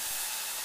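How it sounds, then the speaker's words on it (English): Onions, carrots and sausage simmer-frying in a pan for lentil and sausage soup give off a steady, close sizzling hiss that stays even through the brief moment. "I just wanted to show you the simmer frying going on here."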